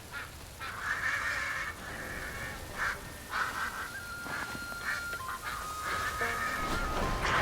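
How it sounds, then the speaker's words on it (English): Ducks quack repeatedly in World of Warcraft, a cluster of nasal, honking calls that come in bursts and overlap. Game background sound runs steadily underneath, and nobody speaks. "Helpless waterfowl. Look at these little ducks."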